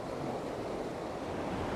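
A river or brook flows nearby as a constant, even broadband rush of water at Collybrooke, with no voices heard.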